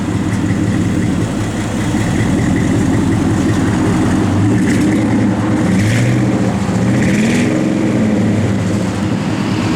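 A restomodded 1966 Chevrolet C10 truck engine runs at a steady, loud idle with a deep rumble, and its pitch shifts slightly partway through.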